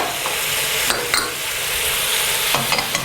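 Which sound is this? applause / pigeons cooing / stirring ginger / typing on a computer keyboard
stirring ginger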